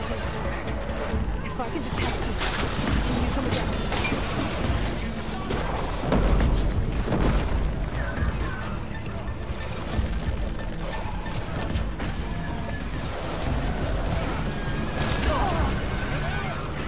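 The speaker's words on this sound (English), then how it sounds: "tento tu bombarduje. Ale to už troška preháňa, že to strieľa rovno predo mňa" A hostile machine in Horizon Forbidden West pounds the area with sustained bombardment and shooting, a dense run of booms, crashes and rapid shots lasting many seconds, with a voice talking over the action.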